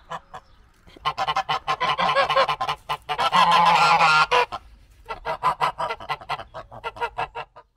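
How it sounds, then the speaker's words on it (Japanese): Territorial geese kept at a French countryside home honk loudly and persistently in an agitated, overlapping chorus. The bursts come nearby and continuous, rising into a sustained cackling peak midway through. "それはこちらのガチョウさんたちでした。 縄張り意識がとっても強く、私たちがここを去るまでずっと怒っていました。"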